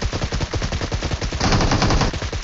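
Rapid automatic gunfire from a PUBG Mobile match, a dense continuous burst of shots rattling loudly throughout with no talk over it.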